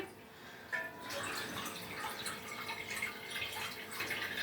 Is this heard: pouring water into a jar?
yes